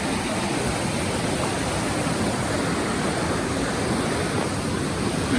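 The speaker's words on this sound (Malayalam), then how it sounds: "കാട്ടിൽ നിന്ന് വരുന്ന വെള്ളച്ചാട്ടമുണ്ട്" A forest waterfall at Meenmutty Waterfalls, Kallar, rushes in a dense, continuous roar of falling water, steady and fairly close with no voices.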